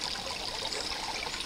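A small forest stream flowing out of Colpitt Lake makes a steady, soft, broadband rush of trickling water that stays even throughout, with no voices.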